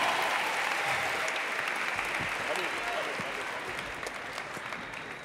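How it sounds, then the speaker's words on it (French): An audience applauds performers at the international final of a freestyle eloquence contest, with dense, sustained clapping and light crowd noise that fades slowly. "Du bruit pour Maras. Du bruit pour Titouan."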